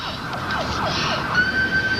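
An ambulance siren wails steadily in rising and falling sweeps at a race event, fairly loud and near, with no talking.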